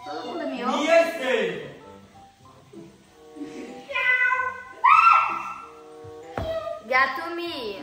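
Children's voices imitate cat meows, calling out one after another in a lively, overlapping chorus with a rising, drawn-out meow near the middle.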